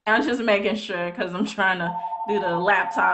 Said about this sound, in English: Excuse the phone, I'm in the office.